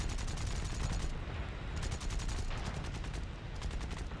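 Sustained rapid automatic gunfire from aircraft machine guns in the World War II air combat game War Thunder, a dense continuous rattle with brief pauses, loud and unbroken for several seconds with no talking.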